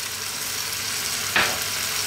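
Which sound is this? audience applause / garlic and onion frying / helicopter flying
garlic and onion frying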